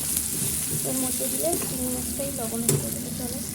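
Vegetables and spices sizzle steadily in a hot pan, a continuous crackling hiss with some stirring, while a voice talks quietly in the background.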